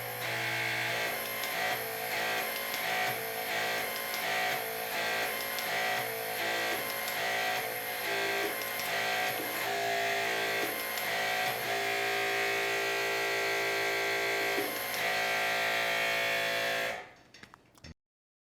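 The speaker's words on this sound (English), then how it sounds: "We have set the MXT as our tool of choice on our vector pump, also set a torque value, and this is how it looks." A HYTORC MXT+ hydraulic torque wrench runs on a vector pump set to a torque value, producing a steady loud mechanical whir with regular pulsing cycles for about seventeen seconds before cutting off abruptly.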